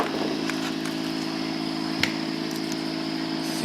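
A generator test rig running at about 1622 RPM, a steady, even mechanical hum with a faint regular pulse and one small click, heard alone without speech.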